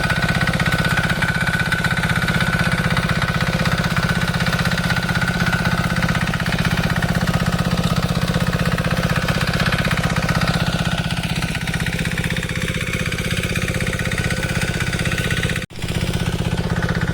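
A tractor ploughs a flooded rice field in rural Konkan at sowing time, its engine thrumming steadily and fairly close throughout, with a brief dip near the end.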